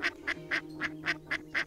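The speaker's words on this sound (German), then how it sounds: "Dabei gackert sie fröhlich, als würde sie lachen." A duck cackling happily as it skids onto an ice surface gives a string of seven evenly spaced, bright quacks, each short and clear, over a faint steady low hum.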